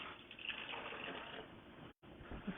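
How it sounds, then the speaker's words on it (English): A cup of water pours into a pan of garlic, a steady gushing splash with a brief cut near the end. "I'm going to add a cup of water."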